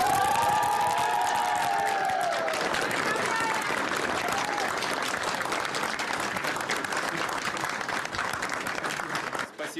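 Sustained loud applause from a crowd of volunteers and staff at a campaign headquarters meeting with Vladimir Putin, dense clapping with some cheering filling the room throughout.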